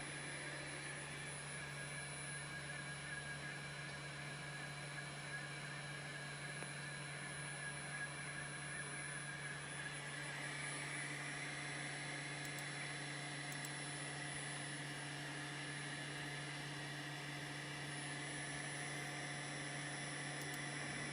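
A Mach4-controlled servo motor driving a lathe spindle at low speed, around 20 RPM, gives a faint, steady electrical hum and whine that holds unchanged throughout.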